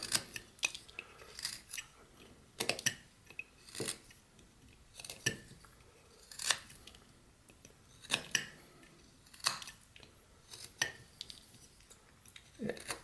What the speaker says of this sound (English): And then I'm just going to deepen that cut a little bit more and kind of bring it around.